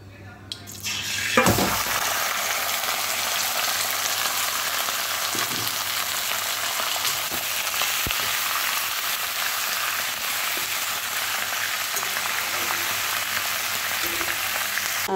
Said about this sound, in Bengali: এবার মটনটা দিয়ে দেবো।